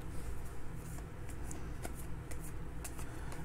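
A stack of basketball trading cards from a Panini Contenders Draft Picks box is shuffled by hand, giving a steady soft riffle with light clicks, close and continuous.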